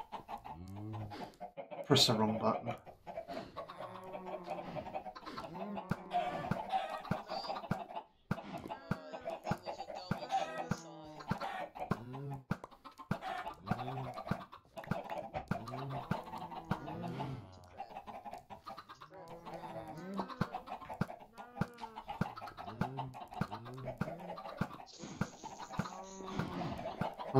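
Chickens cluck continuously and overlap in a coop in a video game, a steady busy chorus heard throughout while a person speaks briefly.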